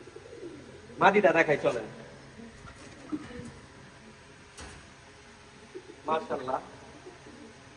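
Pigeons cooing in a loft of selected tournament birds, soft low coos in two short bursts under someone speaking nearby.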